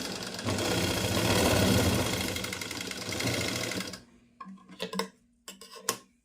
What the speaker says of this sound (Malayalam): ഇങ്ങനെ പതിയെ ശ്രദ്ധിച്ച് ഇങ്ങനെ തയ്ച്ചാൽ മതി